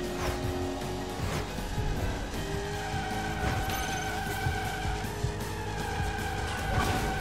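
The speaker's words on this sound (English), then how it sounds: "Oh, what a drift." A car drifting in the racing game Split/Second, engine roaring steadily while tires squeal through a long slide, loud and close with no talk.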